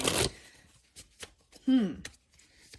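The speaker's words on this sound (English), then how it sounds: "I'm going to give it a good shuffle" Tarot cards shuffled by hand in a few quick riffling bursts, with a brief spoken sound in the middle and short pauses between the shuffles.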